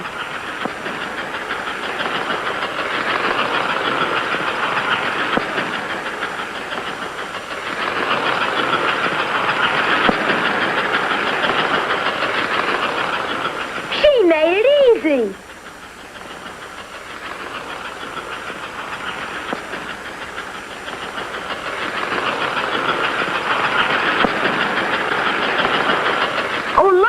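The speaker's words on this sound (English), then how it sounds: "Watch that locomotive work. Wow, look at that engine climbing." An American Flyer model steam locomotive works up a grade with a steady mechanical rumble and hiss, swelling and fading in long waves, with a brief whistle-like squeal midway and a short spoken line.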